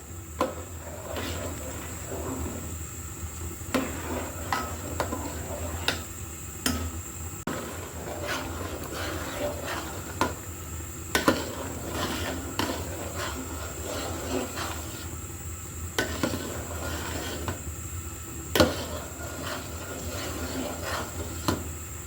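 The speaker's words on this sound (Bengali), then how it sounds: "যেন লেগে না যায় এই জন্যই কিন্তু আমি বারবার নেড়ে দিচ্ছি ভালো করে" A spoon stirs jaggery payesh, a sweet rice pudding, in a pot: soft, irregular scrapes and light knocks against the metal over a steady low hiss, quiet and close.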